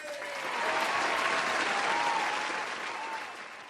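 A studio audience at a footy TV show claps for a contestant named Steve, a full, steady burst of applause that swells in the middle and tapers off, with faint voices mixed in.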